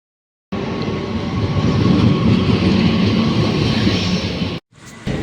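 A loud, steady rumble of a moving train with rattling carriages, cutting off abruptly before a brief quieter burst.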